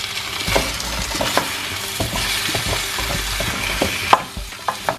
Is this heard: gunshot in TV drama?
no